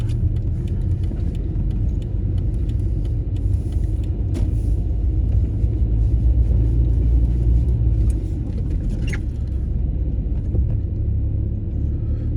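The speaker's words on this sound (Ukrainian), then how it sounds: "Чуть-чуть газку і поїхали." A car moves off during a driving lesson with a gentle press of the accelerator, its engine a steady low rumble with road and cabin noise that holds near and even throughout, without sharp revving.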